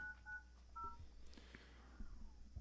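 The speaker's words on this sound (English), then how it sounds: "We're currently dialing the phone to bring Clifford Moss, our consultant, into" Touch-tone telephone dialing in a city council meeting room, a few short DTMF beeps in quick succession at moderate level over quiet room tone, with faint background sounds.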